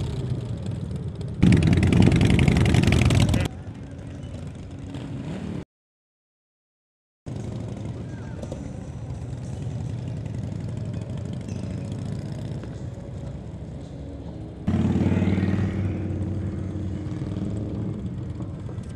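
Motorcycle engines at the Lake Ozark Bikefest, a steady mid-range rumble with two louder revving bursts, one early and one near the end, and a brief dropout in between.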